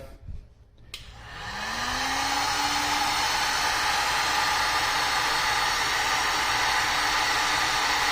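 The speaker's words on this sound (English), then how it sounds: "Okay, you take your heat gun." Heat gun switched on with a click and spinning up into a steady loud whooshing blow with a rising motor whine, used to shrink heat-shrink tubing over wires, continuing alone to the end.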